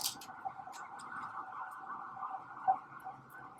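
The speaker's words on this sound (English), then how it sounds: "You hear the sirens?" A distant ambulance siren drones steadily, holding a continuous faint wail throughout with a brief louder blip near the end.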